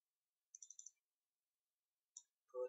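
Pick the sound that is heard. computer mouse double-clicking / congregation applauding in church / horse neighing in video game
computer mouse double-clicking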